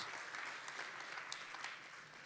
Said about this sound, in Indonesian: Yang mengerti berikan tepuk tangan yang paling meriah buat Tuhan kita Yesus Kristus.